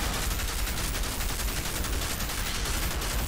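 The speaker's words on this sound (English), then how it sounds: "So the Reaper, the gun I'm using right now," The Reaper gun fires in the video game Outriders during an endgame expedition, a dense, continuous burst of rapid gunfire that stays steady and moderately loud for a few seconds.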